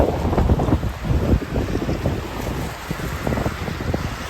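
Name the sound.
typhoon wind and rain in Okinawa, Japan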